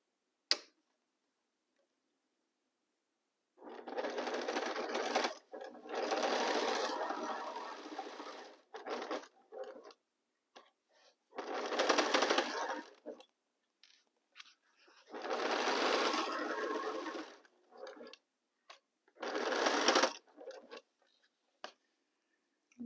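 Sewing machine stitching a quarter-inch seam on a quilt block, running in several bursts of a few seconds each with short pauses between, close and clear.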